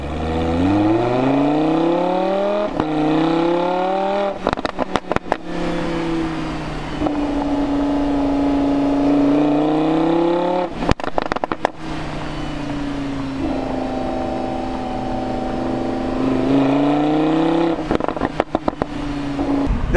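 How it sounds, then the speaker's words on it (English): Lamborghini Huracan Spyder revving hard through the gears, engine note rising in repeated sweeps with sharp exhaust crackles and pops between shifts, loud and close, no talking. "It just crackles and it just goes so much longer."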